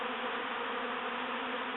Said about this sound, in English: And here are the bees still gathering.